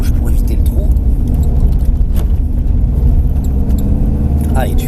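Car engine pulling hard at full throttle on a race track during a driving course, a loud steady in-cabin drone with rising tones, while an instructor talks over it.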